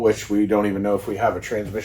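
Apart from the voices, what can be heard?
No everyday noise stands out behind the speech.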